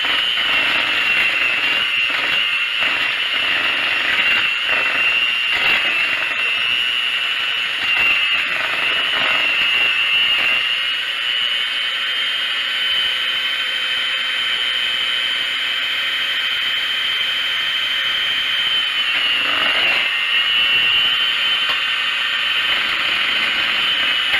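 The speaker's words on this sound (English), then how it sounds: "Use my hand mixer and mix it" An electric hand mixer whirs steadily at close range while beating cake batter for a candy apple cake, its high motor whine continuous for the whole stretch, with faint rattling and clicks from the beaters against the bowl.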